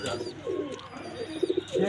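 Pet pigeons coo softly nearby in short, low rounded notes, including a quick run of three pulses, over a quiet background with faint voices.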